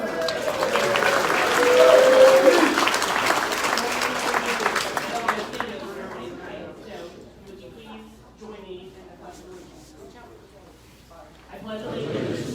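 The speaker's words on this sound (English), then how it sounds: "today is his birthday, so you can probably get a round of applause" Crowd at a county gun rights forum breaks into birthday applause, loud clapping that swells and then fades after a few seconds, leaving quieter room noise and murmuring voices.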